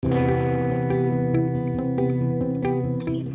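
Several guitar parts play with the reverb wet level turned fully down in FL Studio's LuxeVerb, giving a dry, clean signal of sustained chords and sharp plucked attacks, steady and fairly loud with no voices.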